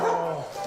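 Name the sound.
dog barking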